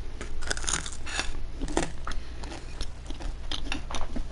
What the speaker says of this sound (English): Listen to this crunch.